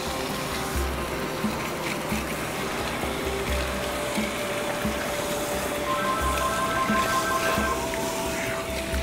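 Water runs steadily from a tap or sprayer while hair is rinsed during a cleansing step at a salon. The flow is soft and continuous, with a faint hum underneath and brief tonal whines.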